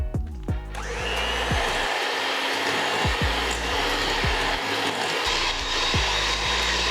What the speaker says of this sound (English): I'm going to be using an electric beater.